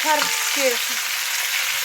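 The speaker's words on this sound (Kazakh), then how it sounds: "Майымыз қызғаннан кейін пиязымызды салып қуырамыз" Four large onions frying in hot oil for Uzbek-style shah plov, a steady close, loud sizzle with brief stirring scrapes near the start, no talk.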